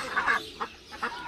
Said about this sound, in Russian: И утки.